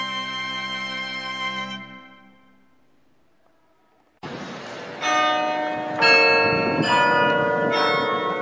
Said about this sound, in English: The carillon in the tower of the chapel consists of 51 bells